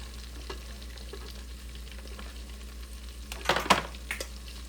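A purple onion frying in mustard oil in a pan, a quiet steady sizzle over low hum with a louder burst of stirring and spattering near the end.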